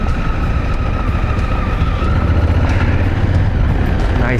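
A heavy dirt truck rumbles past close by on an offroad route, over a constant engine drone and wind noise, its low roar building then easing.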